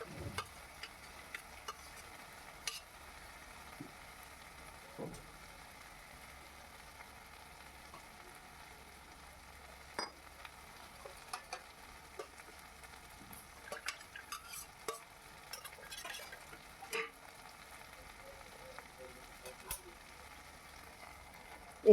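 A paste of ground whole coriander and dried chili frying in a pan, with faint sizzling and scattered stirring clinks of a utensil against the pan, quiet and close, with no talk.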